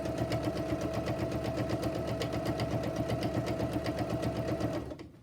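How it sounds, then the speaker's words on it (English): A sewing machine with a quarter-inch foot stitches fabric strips for a quilt-as-you-go strip quilt block, running in a fast, even mechanical rattle for several seconds before stopping abruptly. "I'm just going to sew it with the 1/4 inch foot"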